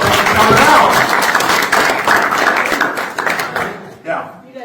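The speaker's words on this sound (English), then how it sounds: "let's give you all a round of applause" Audience applause for candidates at a Republican state representative candidate night, dense clapping filling the room and mixed with voices, gradually thinning toward the end.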